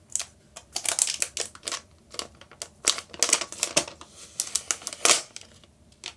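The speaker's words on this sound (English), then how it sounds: "let's peel off this plastic here first" Protective plastic film is peeled off a Google Home Hub in Aqua, giving close, irregular bursts of crinkling and crackling with short pauses, heard without talking.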